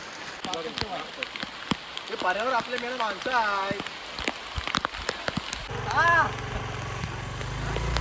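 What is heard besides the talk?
heavy rain falling outside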